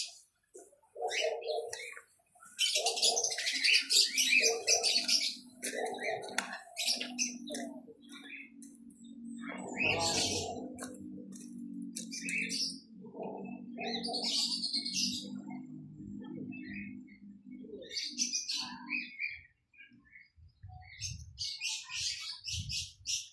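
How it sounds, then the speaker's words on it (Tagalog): A pet parrot calling in a series of close chirps and cooing notes, repeated intermittently over a low steady hum, with brief pauses between bursts. "Tinatawag ka so ng ibon."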